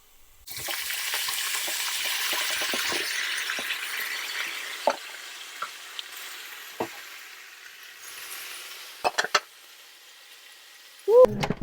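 Pork and its marinade sizzle loudly on a hot griddle while cooking at a campsite, a steady close hiss that starts after a brief quiet and runs throughout, with occasional clatters and scrapes breaking through.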